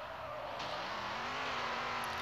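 The engine of a Zegato C3 Corvette in the Demolition Derby 3 video game gives a deep, steady roar whose pitch climbs slightly, with tire noise beneath it and no talk.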